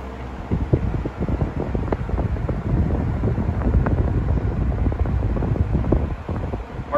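A 1940s Hunter Zephair C16 desk fan runs steadily while oscillating, giving a close, breathy whoosh of moving air with faint irregular mechanical ticks and rattles underneath.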